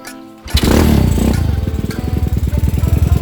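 A Honda CB 100 motorcycle engine fires after a short click and runs close and loud, settling into a rapid, even thumping idle with a strong, heavy-compression beat.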